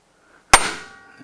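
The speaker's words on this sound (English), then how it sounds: "a normal carpenter's hammer there, that's all you need" A single sharp metallic strike of a carpenter's hammer on rear drum brake parts rings out, then decays quickly into a short clanging resonance.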